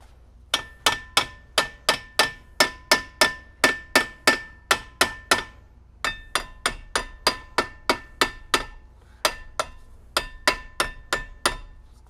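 A small hammer pounds rusted brake parts on a 2003-2007 Volvo XC70, a long run of sharp metallic clanks at a quick, fairly even pace with brief pauses between bursts, close and loud.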